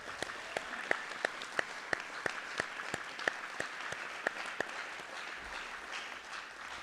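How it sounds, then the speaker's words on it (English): A school assembly audience applauds the thespians, with a steady crowd clapping underneath and one rhythmic, evenly spaced clap standing out close by. The sound tapers off toward the end. "give them one more round of applause"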